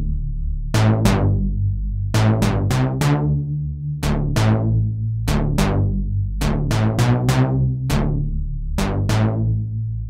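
Auto-sampled Diva synthesizer patch played back from a sampler: bright plucked synth notes with sharp attacks and decaying tails, struck singly and in quick clusters over a sustained low bed, loud and close.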